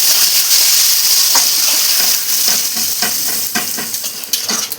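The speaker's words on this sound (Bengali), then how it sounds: "পেঁয়াজটা দিয়ে দেবো, অল্প নুন ও হলুদ দিয়ে দেবো। এবার ভালো করে ভেজে নেব" Onions sizzle in hot oil with a little salt and turmeric for a chicken biryani, making a steady, close frying hiss broken by the soft scrapes and knocks of stirring.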